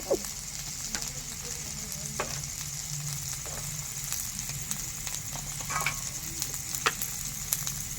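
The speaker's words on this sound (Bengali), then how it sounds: "কুমড়িটা ভাজা হয়ে গেছে তুলে নেব" Pumpkin pieces fry in hot oil with a steady, close sizzle and crackle that runs the whole time, broken by a few sharp spatters and a clink of utensils.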